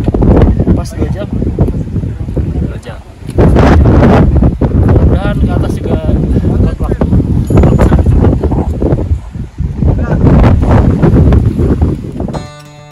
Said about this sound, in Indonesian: kabut turun disertai angin yang sangat kencang